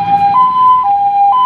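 An ambulance siren wails in a steady two-tone pattern, alternating high and low pitches about every half second, loud and alone with a faint low rumble beneath.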